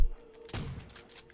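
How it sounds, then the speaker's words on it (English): Gunfire in the Call of Duty zombies map Shi No Numa: a couple of quick, punchy shots with a short echoing tail, heard close in a brief burst. "How many shots was that?"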